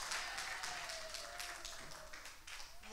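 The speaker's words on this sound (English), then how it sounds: "clap her hand for her as she come forward in the name of Jesus" Church congregation clapping hands together, a steady rhythmic patter of many claps at moderate distance, with a faint voice underneath.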